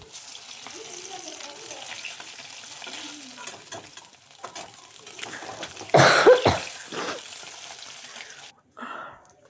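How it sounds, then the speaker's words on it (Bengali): Fish frying crisp in hot oil in a home kitchen gives a steady crackling sizzle, then flares into a louder, spitting burst before settling back and briefly cutting out. "মাছটা এক পিঠ ভাজা হয়ে গেছে, এবার মাছটাকে উল্টে নেবো। একটু কড়া করে ভাজতে হবে।"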